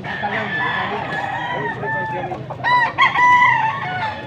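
A white Kelso gamecock crows close by at a sale in Pampanga, with other roosters clucking and crowing around it over a busy background.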